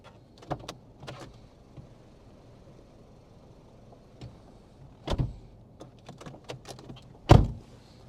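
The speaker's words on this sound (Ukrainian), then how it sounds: "Двері в нас повинні відкритися." Doors opening at a driving test centre gate, heard from inside a car: a few soft clicks, then two sharp mechanical clunks near the end over quiet cabin hum.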